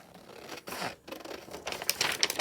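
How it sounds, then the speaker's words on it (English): Close, quiet snipping of scissors through paper and vellum, a few crisp cuts with rustling in between, growing busier toward the end. "I am actually going to use my scissors instead of tearing"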